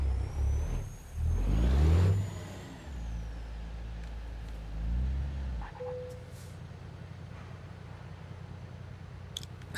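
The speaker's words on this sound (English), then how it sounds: "Most of the motors, I feel like they pull pretty much the same. It's just more what sound you want, you know?" A truck engine revs in Starfield, swelling loud twice in the first few seconds with low rumble and a rising whine, then dropping to a quieter steady idle hum with a brief tonal beep.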